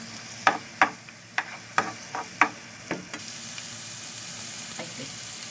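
Garlic sautés in hot palm oil with a continuous sizzle, punctuated by about eight sharp spatula knocks and scrapes against the pan in the first three seconds, then a softer steady fry, close up.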